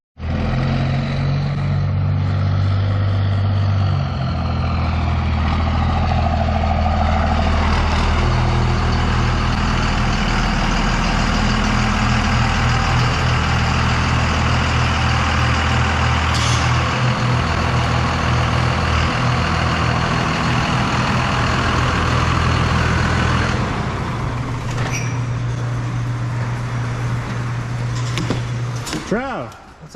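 A second-generation truck with straight-piped exhaust, muffler and resonator removed, idling with a loud, deep, rumbling drone for a sustained stretch, with voices talking over it.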